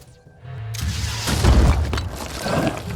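Rocket blast in the tactical game Phoenix Point, blowing a soldier's cover apart: a loud boom around half a second in, followed by sustained crumbling, shattering debris that rumbles on to the end, with no talking.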